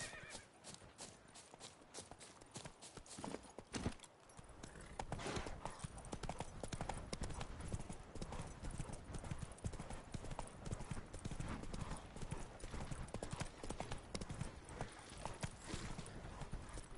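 Horse hooves clip-clopping steadily in The Witcher 3, a fast continuous gallop of close, loud hoofbeats running throughout, with a neigh and the rumble of game ambience underneath.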